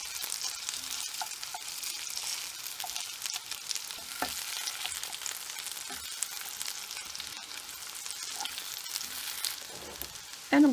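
Plant-based sausages fry in a pan with a steady, close sizzle and crackle, light stirring and a few soft clinks, ending in a louder burst near the close.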